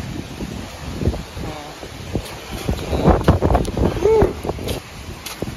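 Strong typhoon wind roars and buffets the microphone in gusts amid heavy rain, with people talking loudly over it throughout.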